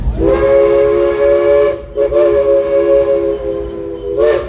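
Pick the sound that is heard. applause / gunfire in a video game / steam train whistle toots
steam train whistle toots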